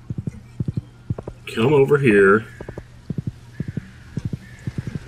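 Horse hooves clip-clop in an even, steady rhythm in the Stardew Valley video game, a brief whinny breaking in midway while a person talks over the clopping.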